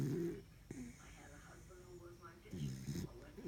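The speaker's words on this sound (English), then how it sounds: "hard to take a nap around here with all this snoring going on" A pet snores quietly nearby in soft, rhythmic breaths, with two clearer rasping snores at the start and near the end.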